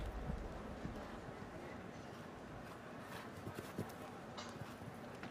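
Horse hooves in a show jumping team final at Aachen, faint rhythmic beats half-buried under steady arena noise and a commentator's voice.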